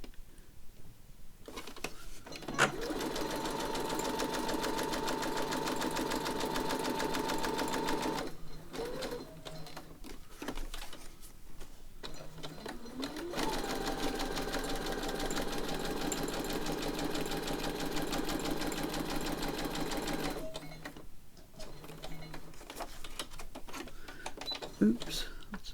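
A sewing machine stitches around a paper ephemera piece in two long runs, loud and close with a steady mechanical whir, separated by a pause with handling noises while a person talks.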